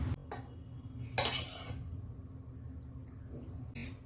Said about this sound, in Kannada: ಇದನ್ನೆಲ್ಲ ಚೆನ್ನಾಗಿ ಮಿಕ್ಸ್ ಮಾಡ್ಕೊತಿದ್ದೀನಿ